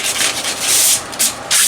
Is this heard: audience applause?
no